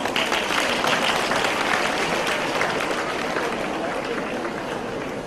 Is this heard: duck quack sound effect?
no